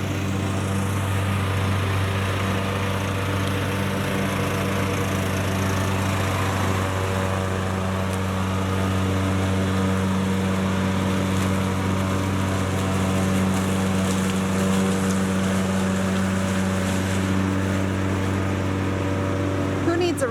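Steady droning engine of a John Deere riding mower mulching a thick bed of leaves, running continuously nearby, with a low hum and faint chopping texture throughout.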